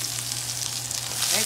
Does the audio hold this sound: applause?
no